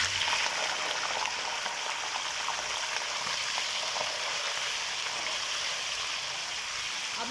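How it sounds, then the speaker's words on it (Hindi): Mutton sizzles and fries in ghee with whole spices for a lamb and lentil dish, a steady crackling hiss that stays fairly quiet and even throughout, with no talking. "अब इसको घी के अंदर 3 से 4 मिनट तक हम अच्छी तरह से पहले इसको फ्राई कर लेंगे गोश्त को"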